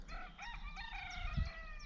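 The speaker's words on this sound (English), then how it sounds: "That's cockerels as well" Several cockerels crow in overlapping calls, drawn-out and fairly distant, with a low outdoor rumble underneath and no voices.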